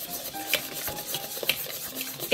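A whisk stirring cookie dough in a bowl, with soft repeated scraping and stirring strokes, close and moderately quiet, punctuated by a few light clinks against the bowl.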